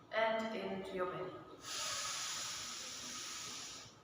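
A long, deep exhale during a kriya yoga breathing lesson: a steady breathy rush of air that holds for about two and a half seconds. It follows a brief voiced sound at the start and is heard alone, close and moderately loud.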